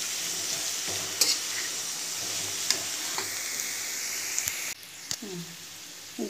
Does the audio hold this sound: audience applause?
no